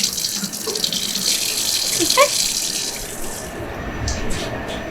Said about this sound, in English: We then run them under some water.